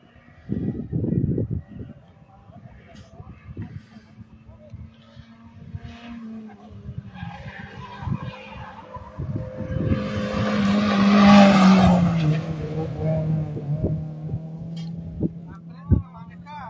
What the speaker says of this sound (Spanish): escuchamos vehículo de fondo y vamos a ver el vehículo que se aproxima